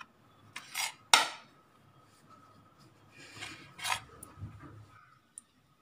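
A knife cuts through a loaf of bread for bread masala, with a few separate crisp scraping strokes that come close and clear, with quiet pauses between them.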